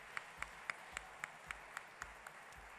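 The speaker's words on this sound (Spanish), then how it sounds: "Un aplauso para los artistas." Audience at a children's theatre awards ceremony, faint, sparse clapping with about ten distinct claps in a steady rhythm, heard alone without talk.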